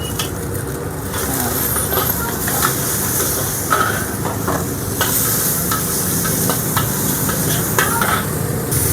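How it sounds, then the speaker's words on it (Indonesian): Shallots and garlic frying in a pan with egg at a roadside stall, with a steady dense sizzle running throughout and scattered stirring scrapes, close and fairly loud. "baru kita masukkan bawang merah, bawang putih"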